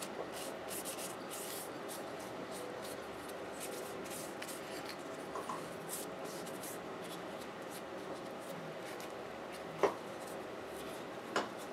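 A wet cleaning patch is rubbed across an AR-15 rifle bolt, giving a steady soft scrubbing and swishing texture with two brief sharper clicks near the end, close and quiet.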